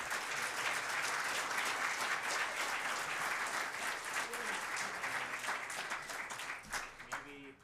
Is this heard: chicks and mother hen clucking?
no